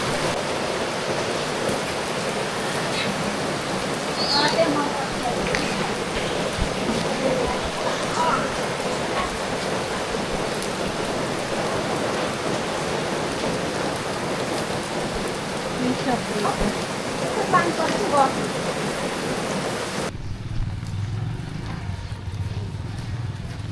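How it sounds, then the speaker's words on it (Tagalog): Heavy rain pours steadily outdoors during a walk along a road in the Philippines, a dense even hiss lasting throughout, with a few faint voices beneath it before the sound cuts to a quieter muffled tail. "Lakas ng ulan."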